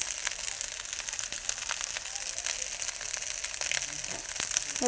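Fried rice with peas, carrots and beans stirred in a hot pan gives a soft, steady sizzle with scattered scraping and tapping of the utensil, close by and without speech.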